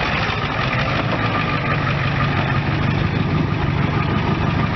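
A 1991 Ford F250 pickup, slightly lifted, with its 7.3 IDI diesel idling steadily up close, a loud low clatter and rumble that holds even for the whole stretch with no one talking.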